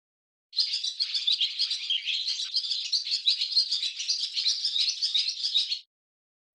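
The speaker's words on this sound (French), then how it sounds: "Tu as entendu le cri de l'hirondelle." A swallow call from the French children's video game Adibou'chou: rapid twittering in a continuous stream of high chirps for about five seconds, clean and isolated, with silence before and after.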